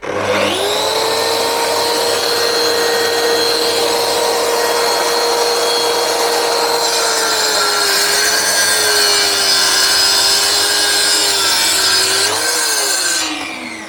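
A Mafell MT55 plunge saw with a 32-tooth blade cuts through glued laminated solid wood. Its loud, steady motor whine spins up at the start, holds through a long cut of about twelve seconds, then winds down, with no talk.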